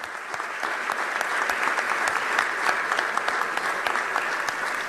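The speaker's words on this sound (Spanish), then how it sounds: "pido un fuerte aplauso porque ya tenemos la confirmación de una figura importante" An audience at the launch of a rural agricultural expo claps in a steady, moderately loud round of applause, a continuous crowd patter with a few sharper individual claps standing out, unaccompanied by speech.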